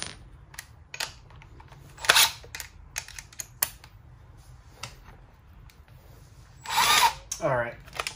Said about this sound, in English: So we could just hit it with our drill.